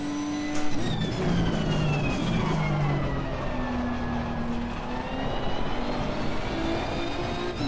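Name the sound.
Nissan GTR race car engine, Assetto Corsa Competizione video game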